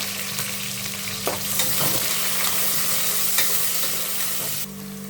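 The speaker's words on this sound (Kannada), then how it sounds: "ಅದು ಈರುಳ್ಳಿ ಫ್ರೈ ಆಗ್ತಾ ಇದೆ ನೋಡಿ" Onions and a bay leaf frying in a pan for chicken biryani, a dense steady sizzle with occasional spatula scrapes, close and loud, easing off just before the end.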